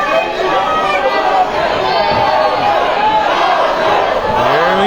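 Loud, dense crowd shouting and chattering at a live Muay Thai fight, steady babble of many voices calling for the fighters, with individual cries rising out of the roar throughout.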